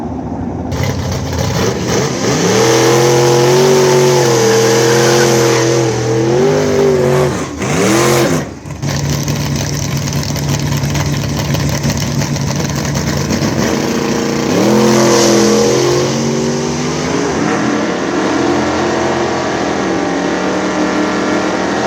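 Drag race car on the strip, loud engine roaring and revving with rising pitch sweeps, a sharp dip partway through, then a sustained roar with more revving near the end.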